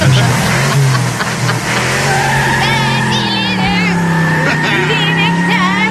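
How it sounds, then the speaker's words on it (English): Tires screech loudly as a car skids, the squeal wavering over an engine roar, with voices talking underneath. "I didn't see that, but I did hear tire screech"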